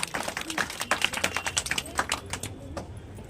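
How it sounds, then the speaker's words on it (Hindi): Clapping from a school audience at an Independence Day function, greeting a student who comes up to give a speech: a quick, fairly close patter of hands that lasts a few seconds and then thins out. "जोरदार ताली से नंदिनी का स्वागत कीजिए।"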